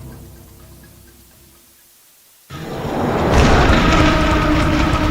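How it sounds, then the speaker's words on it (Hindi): Heavy continuous rain comes in with a sudden roar after a quieter stretch of low rumbling, then keeps up as a loud, steady wash of noise. "यहाँ भी लगातार बारिश हो रही है"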